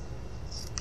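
Scissors snip through a strip of gray felt for a handmade doll, a brief close cutting sound with a faint metallic click of the blades near the end.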